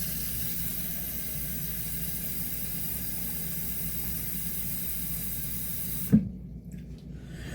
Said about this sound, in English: fill this up to the 2 cups line and add about 2 more cups of water into this